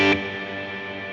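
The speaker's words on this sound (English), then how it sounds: "You can hear a very big reverb." Electric guitar chord played through a Line 6 Helix with a very big reverb, a sharp attack followed by a long, smooth, washing tail that sustains evenly.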